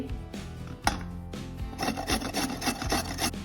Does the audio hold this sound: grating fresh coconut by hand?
yes